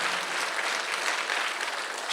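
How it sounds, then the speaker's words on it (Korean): A church congregation at a Sunday worship service applauds in a dense, steady burst of clapping that fills the whole short stretch at moderate loudness, with no clear voices over it. "박수하세요"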